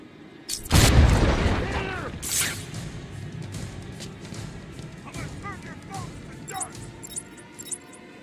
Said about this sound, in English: Get back up here, because they're going to hear this explosion.